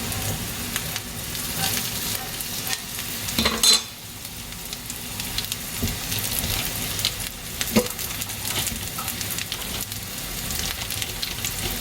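An Impossible burger patty sizzles in a pan, a steady low frying hiss lasting throughout with a brief louder scrape partway through, and no one speaking.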